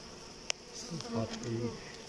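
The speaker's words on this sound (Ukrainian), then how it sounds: "Це злобні такі тут бджоли." Angry honey bees swarm around a beehive, their dense buzzing close and steady, with several individual bees wavering in pitch as they fly past.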